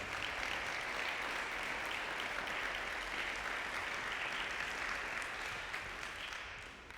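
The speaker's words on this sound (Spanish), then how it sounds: "Dale un fuerte aplauso a Jesús." Sustained applause from a large church congregation, dense and steady clapping that tapers slightly toward the end.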